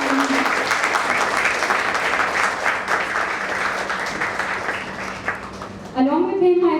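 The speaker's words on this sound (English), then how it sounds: "So may we please applaud" Audience applause at a talk on decolonising Indian history, a dense wash of many hands clapping for about six seconds that fades slightly before a speaker resumes talking at the end.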